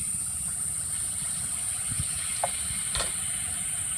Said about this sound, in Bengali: দেখি আর একটা ময়দা ঢেলে দিলাম